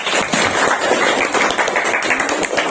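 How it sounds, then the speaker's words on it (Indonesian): Classroom audience of teachers clapping together in dense, continuous applause, loud and close, with no talk over it. "Oke, tepuk tangan dulu"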